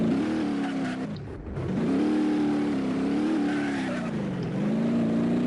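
Car engine in BeamNG.drive, driving through Blackhills Nevada, a steady loud drone with shifting pitch, briefly dipping and easing off before resuming its even hum.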